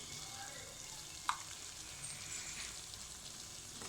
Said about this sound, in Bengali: সমস্ত উপকরণ ভালোভাবে মিশিয়ে নেব